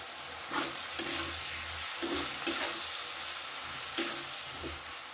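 Chili sauce, soy sauce and tomato sauce sizzle in a hot pan while a spoon stirs them together, with a steady fry hiss broken by several scraping strokes, close and alone.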